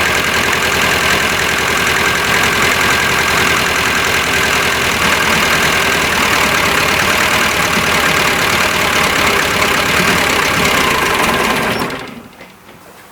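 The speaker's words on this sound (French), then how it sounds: "Il n'y a pas de claquement, il n'y a rien, mais le moteur il vibre." A steady car engine idle with a vibrating, rattling hum runs continuously, close to the microphone, then cuts off abruptly near the end; the engine vibrates without knocking.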